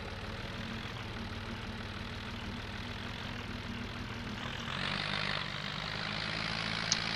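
Tractor engine idling with a loud exhaust in Farming Simulator 22, a steady low droning rumble that swells slightly partway through, heard alone.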